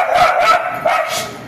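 A dog barks several times in quick succession, close and loud, in a residential street setting.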